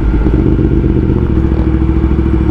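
A Yamaha MT-10 motorcycle fitted with an Akrapovic exhaust idles loud and close with a deep, steady rumble that swells slightly as the throttle is blipped, heard alone without talk.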